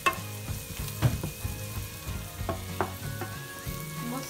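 Spices being sautéed with turmeric and red chili powder in a pan for a Malvani-style fresh jawla shrimp dish, a low steady sizzle broken by sharp scraping stirs of a spoon against the pan, close up with no voices.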